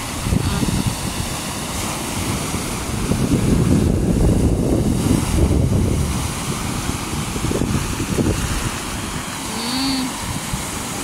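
Sea waves roll in and wash along the shore at a seaside spot, a continuous surging rush mixed with wind buffeting the microphone, swelling louder in the middle.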